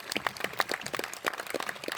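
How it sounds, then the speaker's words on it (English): A small audience applauds panelists at an E3 Q&A event, scattered claps pattering quickly and irregularly at moderate volume, with no speech over it. "round of applause for our panelists"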